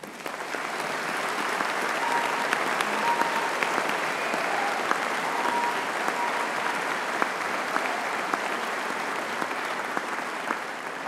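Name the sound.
applause for the Birmingham Conservatoire musicians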